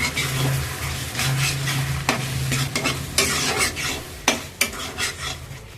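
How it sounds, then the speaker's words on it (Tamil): Chicken liver sautéing with pepper in a pan, steady close sizzling broken by repeated scraping strokes of a spoon against the metal and a few sharper clanks, no talking. "வதக்கிக்கலாம் ஃப்ரெண்ட்ஸ்"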